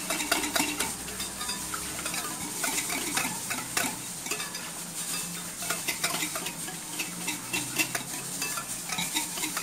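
Yeast, milk and sugar are stirred briskly in a bowl, a continuous close clatter of spoon scraping and liquid swishing without pause.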